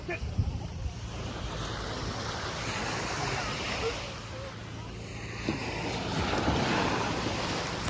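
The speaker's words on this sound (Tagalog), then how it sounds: "Yan ang dagat. Pwedeng maligo." Steady roar of sea waves washing on the shore at Tanza, Cavite, Philippines, with wind buffeting the microphone, continuous and fairly loud throughout.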